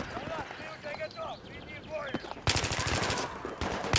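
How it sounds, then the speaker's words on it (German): Rapid bursts of automatic gunfire in Battlefield 3 multiplayer break out after a stretch of voices talking, loud and rattling in quick repeated volleys. "Ich höre Schüsse."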